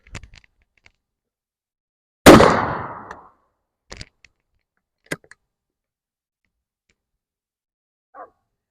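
A single loud, close gunshot fires a slug at a block of lead, cracking sharply and then ringing off for about a second, followed by a few faint scattered clicks and taps.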